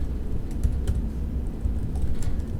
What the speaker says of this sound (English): you start typing into Google and they start to predict what you're looking for